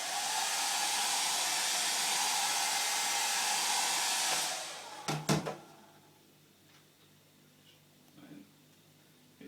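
A heat gun blows loudly as it warms vinyl wrap on a car trim piece, a steady hissing roar that cuts off midway, followed by a few sharp handling knocks and quiet rustling.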